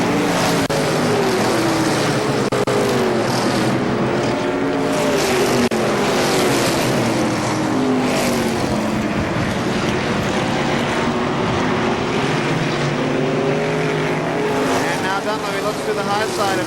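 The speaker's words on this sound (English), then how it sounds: "look at this gaggle of cars battling" A pack of race cars battles around an oval speedway, their engines roaring and whining continuously as they pass, with a commentator talking loudly over the noise.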